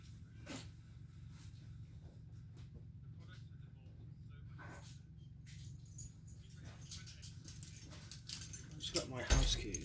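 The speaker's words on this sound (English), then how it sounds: "I just got my house keys" A set of house keys jingles lightly in bursts over a steady low hum, ending in a louder, closer rattle in the last second.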